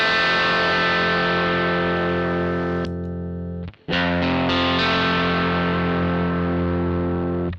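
Electric guitar played through a Marshall JTM1 head with a boost pedal, loud distorted sustained chords ringing out, briefly cut off and restruck, thick and saturated with no talking.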